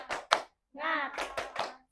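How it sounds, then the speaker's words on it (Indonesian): Elementary school pupils and their teacher clap out a rhythmic classroom cheer, tepuk semangat, with two quick claps, a chanted voice, then three more claps in a short patterned burst. "kita tepuk semangat dulu ya"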